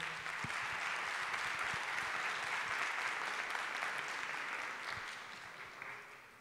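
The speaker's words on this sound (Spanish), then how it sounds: "creo que le voy a dar entonces un aplauso para los panelistas" Sustained audience applause for the panelists closing a panel on drug market regulation in Colombia, steady and dense for about five seconds before gradually thinning out.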